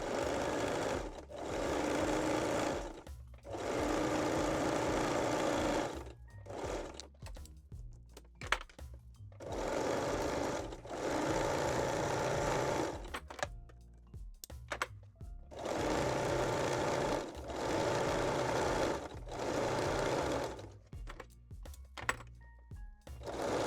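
A sewing machine runs a 3-step zigzag stitch along an elastic waistline on mesh-back Brazilian panties, sounding in several close, steady bursts of rapid whirring separated by short pauses.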